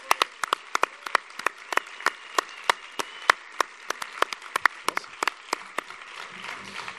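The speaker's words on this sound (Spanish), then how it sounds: "le damos un aplauso a ellos" A small lecture audience claps for a talk on psychoactive plants in indigenous Canary cultures, giving sparse, distinct, close claps that slowly thin out rather than a dense ovation.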